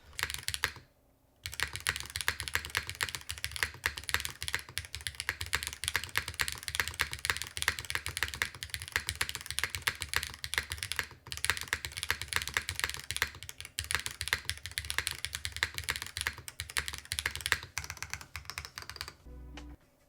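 Fast, continuous typing on a Meletrix Dyna TKL mechanical keyboard fitted with a cork plate sheet. The keystrokes are dense, close and clicky, with one short pause near the start and no voices.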